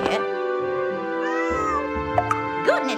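Cats meow in the game Granny in Paradise, a few short, clear mewing calls rising over a steady tonal music bed.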